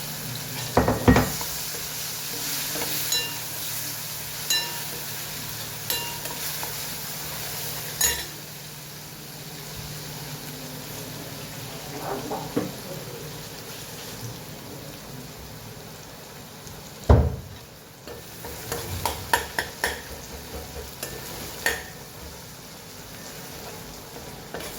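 Crushed garlic and chili fry and get stirred in a pan. A steady crackling sizzle runs throughout, with scattered spoon scrapes and clatters, including a sharp knock midway, all heard up close with no voices.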